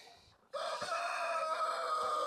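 A rooster crows loudly and steadily after a brief quiet start, with a chicken clucking close by.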